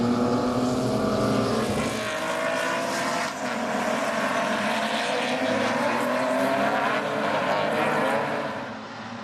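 Several BMW race cars roar past on the track during a club race, their engines droning loudly and steadily with shifting pitch as they pass close by and hold a continuous wall of sound.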